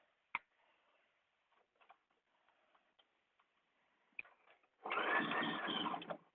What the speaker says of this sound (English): So I'm just stitching these.